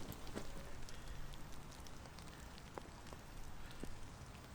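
Heavy lashing rain pours down steadily at a fishing lake, a dense continuous patter with occasional sharper drops close by and no voices.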